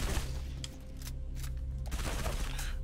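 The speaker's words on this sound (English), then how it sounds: "I'll snipe them out from here with my pistol" Pistol fire from Halo MCC Flood Firefight: dense bursts of gunshots over continuous game noise and a low drone, with several sharp broadband cracks across the clip and no speech.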